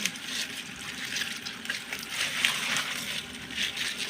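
A plant is soaked in water to loosen the soil and fertilizer from its roots, giving a steady broadband wash of water sound, like running or sloshing liquid, close and continuous with no talk.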